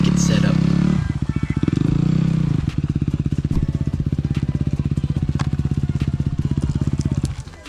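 Dirt bike engine revving hard while riding through a deep mud hole, loud close chugging pulses that bog and recover, with a rider's voice over it.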